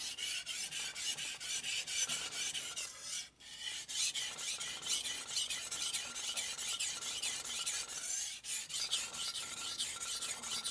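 A Kohetsu HAP40 gyuto knife is ground on a King NEO 800 whetstone with continuous gritty, rasping strokes, close and steady with only a brief pause between passes.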